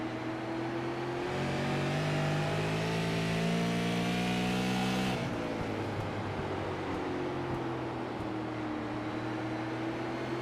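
Super Late Model race cars at North Wilkesboro Speedway roar continuously, engines revving and pitching up as one car passes close, then a steady loud drone of the pack continuing, no talk.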